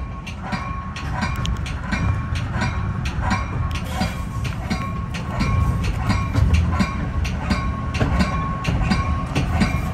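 A Metra commuter train on the Union Pacific North Line in Chicago, pushed by an EMD F40PH diesel locomotive, rumbles steadily from inside the car with repeated clickety-clack of wheels over rail joints, loud and continuous throughout.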